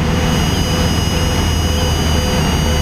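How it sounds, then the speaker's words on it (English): Inside the cockpit of a Cessna Cutlass 172RG during flight, the landing gear warning horn sounds as a steady, continuous tone over loud, constant engine and propeller drone. "that's your gear warning horn"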